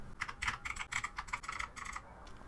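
Computer keyboard keys tapped while editing a resume in Google Docs: a quick, close run of about a dozen crisp clicks with no voices.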